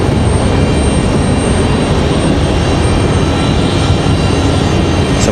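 A Frontier Airlines jet nicknamed Pike the Otter departing Raleigh-Durham International on its flight to Tampa, a loud, continuous broadband engine roar that holds steady without a break.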